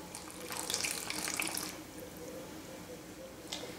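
Grape water pours and splashes onto flour in a bowl for sourdough starter, a soft continuous trickle that fades after a couple of seconds, followed by faint drips.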